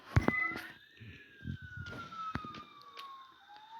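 A police siren in the game Vegas Crime Simulator wails in rising and falling sweeps with sharp electronic tones and a few short bursts, sounding synthetic like game audio.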